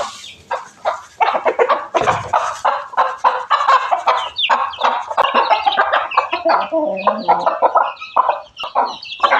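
Several chickens cluck and squawk close by in a busy, irregular chorus, with short bursts overlapping throughout.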